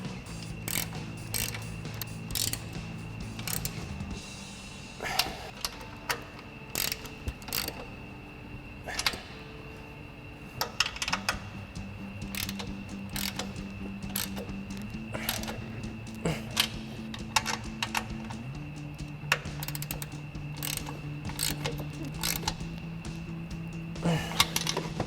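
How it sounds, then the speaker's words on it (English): A ratchet with a 15 mm socket tightens the upper mounting nuts of a front leveling kit on a 2024 4WD Toyota Tacoma, giving repeated close ratcheting clicks in uneven bursts with metallic creaks between strokes and no talking. "Now we'll go ahead and fully tighten down our upper mounting nuts here using our 15 mil socket on a ratchet."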